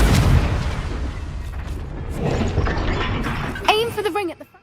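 A Confringo fire spell bursts in Hogwarts Legacy on PS5, a loud booming blast at the start that rumbles and fades while a voice speaks over it and a bright magical crackle follows near the end.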